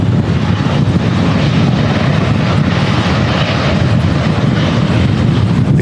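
A Boeing 747 lands in a strong crosswind at Manchester Airport during a storm, its engines a loud, unbroken roar buffeted by heavy wind noise on the microphone throughout.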